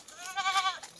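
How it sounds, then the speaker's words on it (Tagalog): Goats passed along a mountain trail bleat, a single wavering, quavering bleat rising in the middle of the second, fairly faint and a little distant, with no talking. "May nadaanan tayong mga kambing dito"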